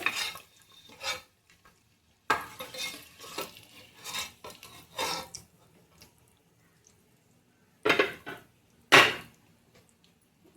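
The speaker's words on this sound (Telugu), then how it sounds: "ఇట్లా ఫ్రై చేసుకుంటే గుడ్డు గట్టిగా అవుతుంది" Boiled eggs frying with chilli powder in a pan for egg biryani make intermittent bursts of spattering sizzle and spatula scraping against the pan, separated by quiet gaps.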